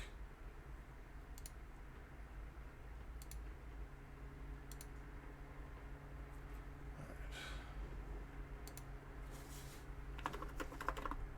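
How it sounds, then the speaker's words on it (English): Typing on a custom Sho S60 HG mechanical keyboard: a continuous quick patter of clacky keystrokes at close range, with a few sharper spaced clicks and a denser burst near the end, no talk. "here let's do a typing test real quick"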